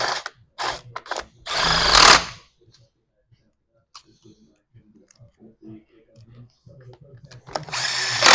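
A power drill driving bolts back into a STIHL hedge trimmer, with several short close bursts at the start and another at the end, and someone talking in between.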